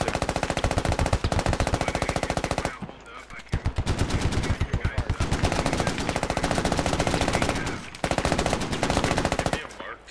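An M2 heavy machine gun fires in the military shooter game Squad, delivering long, loud, rapid bursts with a brief pause and short breaks between strings, while voices talk faintly underneath.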